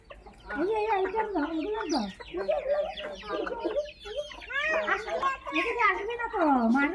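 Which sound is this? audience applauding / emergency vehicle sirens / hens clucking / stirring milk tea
hens clucking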